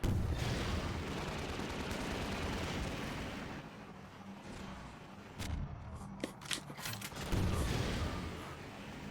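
Enemy gunfire in the Half-Life 2 VR mod, loud bursts of shots and rumbling blasts packed together near the listener, easing off midway before a few sharp cracks and another heavy burst.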